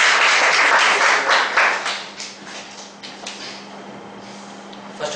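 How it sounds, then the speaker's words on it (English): Audience applause at a speakers' forum meeting, a dense burst of clapping that swells at the start and gradually thins and fades over several seconds, with a faint steady hum underneath. "Let's give a round of applause to Mr."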